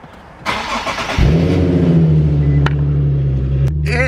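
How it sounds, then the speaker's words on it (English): A car fitted with an aftermarket exhaust cranks and fires up close by, then settles into a loud, deep, steady idle burble with a couple of sharp clicks over it. "So you'll hear that when I start my car."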